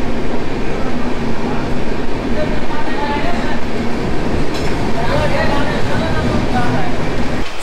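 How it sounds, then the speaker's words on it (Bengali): The 18627 Howrah Ranchi Intercity Express pulls out of Muri Junction with a loud, steady rolling rumble and faint wheel clatter, while people talk nearby inside the carriage. "মুড়ি জংশন থেকে আমাদের ট্রেন ছেড়ে দিল"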